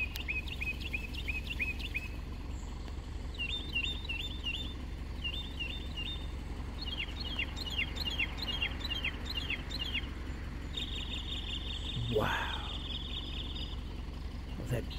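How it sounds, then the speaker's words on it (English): A songbird calls repeatedly in short chirping phrases over a steady low background hum, with a brief rising whistle-like sweep near the end. "Oh, that bird is lovely."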